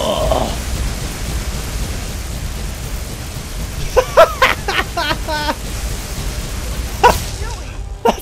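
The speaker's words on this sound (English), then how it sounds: "All right, let's lightning storm then." A lightning storm spell cast in Skyrim gives a steady, hissing roar like heavy rain, broken near the end by a few sharp, crackling electric bursts.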